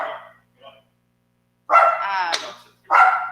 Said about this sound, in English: He's barking because you haven't walked in.